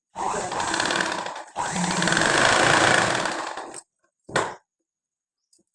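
A sewing machine stitching fabric runs in two long steady bursts, the second longer, then stops and gives one short final spurt, close and fairly loud with no talk.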